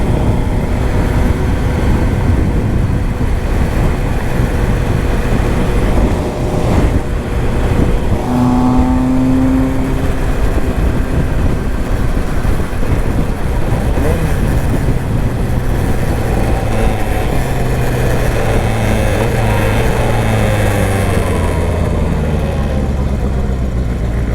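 Kawasaki GPz 750 motorcycle engine running steadily while riding, a loud continuous drone with low rumble and shifting pitch, heard close and alone throughout.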